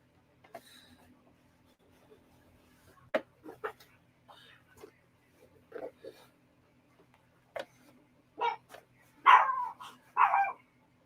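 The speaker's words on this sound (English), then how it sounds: "y'all hear little Remy out here barking." Several short, sharp barks from a small dog indoors, spaced irregularly and growing louder toward the end, in an otherwise quiet space.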